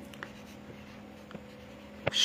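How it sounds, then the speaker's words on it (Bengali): A word written by hand during a Bengali grammar lesson: faint, soft scratches and small taps of a pen, quiet and close, ending in a slightly louder scrape, with no talk. "আমি এখানে সম্প্রকর্ষ শব্দটা লিখলাম"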